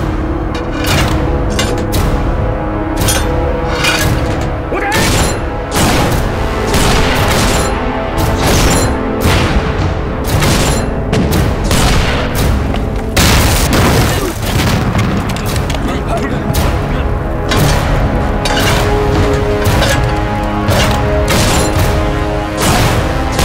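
Mortar fire and explosions in a war film about the Eighth Route Army ambushing Japanese troops in a valley, a dense, continuous barrage of loud booms and gunfire bursts, with shouted voices mixed in.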